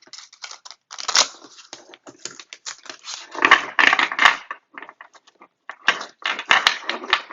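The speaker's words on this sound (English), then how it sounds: "I'm going to go ahead and shuffle the cards again for you" Tarot cards being shuffled by hand, bursts of crisp riffling and snapping card sounds in uneven clusters, close and fairly loud with short quiet gaps between.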